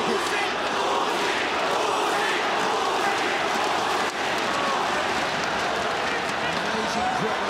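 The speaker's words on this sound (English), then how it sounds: "Amazing crowd here. Sounds like a football arena. We're all cheering on Geje Eustaquio." A packed arena crowd roars for a ONE Championship fight, a loud continuous wall of cheering that holds throughout under a commentator's voice.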